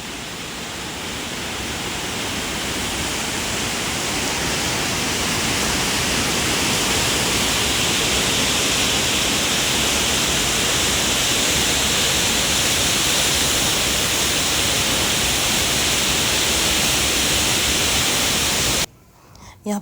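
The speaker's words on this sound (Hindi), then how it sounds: "यहाँ पे पानी का इतना शोर था कि मेरी वॉइस ही नहीं आ रही थी" Water rushes loudly and continuously near a resort in Kaghan, northern Pakistan, a dense, steady roar like a waterfall or torrent filling the whole scene before cutting off abruptly near the end.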